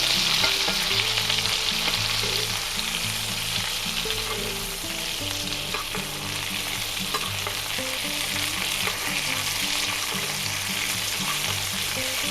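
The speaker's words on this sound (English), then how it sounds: "baste our steak" Flat iron steak sizzling hard in a pan with garlic cloves and melted butter being spooned over it, a dense continuous loud crackle with rhythmic basting clinks repeating throughout, no voices.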